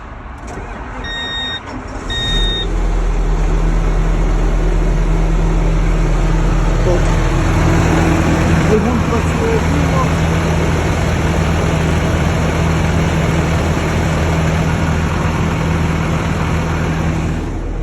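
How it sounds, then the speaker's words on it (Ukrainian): A 2016 Claas Axion 940 tractor with an overhauled engine cranks with a few warning beeps, then settles into a loud, steady diesel idle with a constant hum, close to the microphone. "Так, І запуск двигуна."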